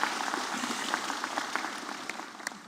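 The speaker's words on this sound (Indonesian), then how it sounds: "Boleh tepuk tangan?" Audience applause during a religious lecture held at an airport, a dense, steady patter of many hands clapping at moderate distance, thinning slightly toward the end.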